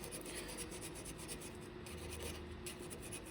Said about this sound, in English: When we stop this and sand this way, all I'm doing is actually hiding sanding marks.